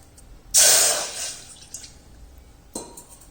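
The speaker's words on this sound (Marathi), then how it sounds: "1 वाटी आपण पाणी ओतून घेणार आहोत याच्यामध्ये" A bowlful of water is poured into a pot in a home kitchen, a short bright splashing gush that fades away, followed by a brief second splash.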